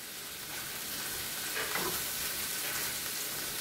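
Ground beef browning in a pan with its grease for taco salad, a steady close hiss of sizzling frying with a brief stirring scrape partway through and no talk.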